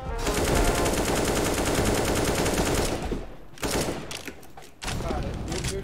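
Negev machine gun fire in CS:GO, a loud unbroken rapid burst lasting several seconds, then sporadic shots and game noise as the stream of fire breaks off, with a player's voice talking.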